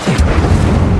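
An Incendio fire spell cast in the video game Hogwarts Legacy, a sudden loud whooshing burst followed by a deep, rumbling fiery roar that sustains briefly.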